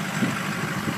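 A 2005 Ford F-250 King Ranch 4x4 with the Powerstroke diesel idles through a muffled exhaust, a steady, subdued low rumble with a faint pulse, quiet and even throughout.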